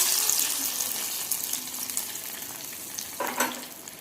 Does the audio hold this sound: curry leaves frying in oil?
yes